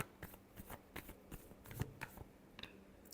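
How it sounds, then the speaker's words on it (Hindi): Tarot cards are shuffled close up in a quiet room, a soft irregular flurry of riffles and slaps over a few seconds. "last shuffle"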